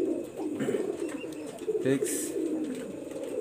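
A breeding pigeon pair close to laying eggs coos in low, repeated rolling notes, with someone talking over much of it.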